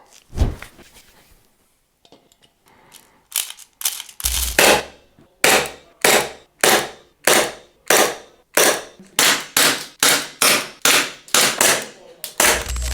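A rapid series of sharp, snappy shots from an Umarex Glock 42 airsoft blowback pistol, about a dozen in fairly even rhythm, close and loud, with a mechanical clack on each.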